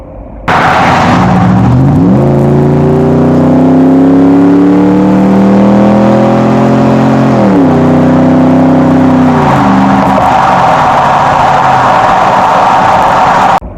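A Ford car fitted with a Borla performance exhaust accelerates hard, its loud engine note climbing through gears with a brief dip and a rising drone, then settling into a steady roar close by, with no talking.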